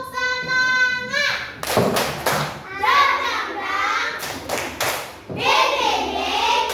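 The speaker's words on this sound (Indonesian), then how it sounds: "tepuk semangat" A group claps the "tepuk semangat" spirit clap in a rhythmic pattern of sharp, loud hand claps. The claps alternate with children's chanting and singing voices throughout.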